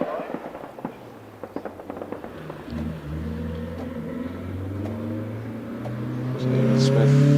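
A 2-litre Renault Clio rally car on a hillclimb run at night, its engine revving hard and climbing through the gears with sharp pops and crackles, growing louder toward the end as it draws near.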